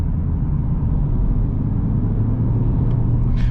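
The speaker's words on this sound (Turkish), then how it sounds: "Şu an sporu aldım ve araba hemen çıldırmaya başladı." A 2020 Ford Kuga Titanium SUV with a 1.5-litre 120 hp diesel engine pulls away in sport mode, its steady low engine rumble and road noise filling the cabin without a pause.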